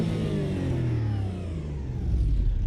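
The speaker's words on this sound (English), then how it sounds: "Oh, just hear the sound of this car as well," A racing car's engine lapping the Nordschleife in Automobilista 2 (AMS 2), loud and close, revving through gears with falling pitch sweeps as it decelerates, then building again.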